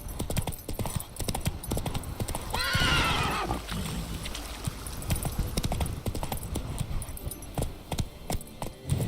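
A horse gallops in The Witcher 3 with fast, clear rhythmic hoofbeats throughout and a brief whinny near the start, heard at moderate volume alongside other game sounds.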